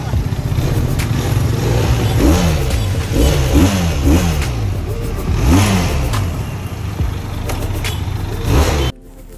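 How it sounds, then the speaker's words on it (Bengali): A motorbike engine revs repeatedly in rising and falling bursts, loud and close, then cuts off abruptly near the end. "এটা আওয়াজ করে বাইকটা।"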